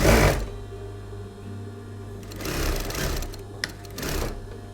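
A sewing machine hems the diagonal edges of a halterneck dress, close and fairly loud, with short bursts of stitching at the start and in the second half and a quieter hum between them.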